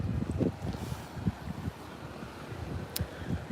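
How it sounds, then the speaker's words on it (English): Wind buffets a microphone outdoors, producing low rumbling gusts that rise and fall irregularly, with a faint rustle and a brief high click partway through. "I know the wind is a bit much."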